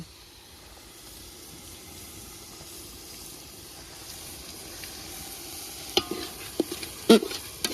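Ginger garlic paste is stirred into a frying onion and tomato gravy in a village kitchen. A soft, steady sizzle and hiss hold throughout, ending in a few sharper spoon scrapes and knocks against the pot.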